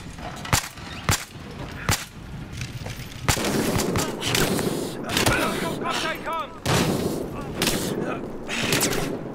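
Gunfire in the video game Battlefield Hardline: sharp, loud shots in separated single cracks and quick bursts, spread irregularly across the clip over a background of game ambience, with someone talking between shots.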